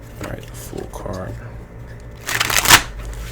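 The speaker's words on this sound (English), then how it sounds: "That was a smooth shuffle, so the cards are ready." Tarot cards are shuffled in a smooth riffle, a soft flutter of card edges that builds to a crisp burst near the end, close and fairly quiet.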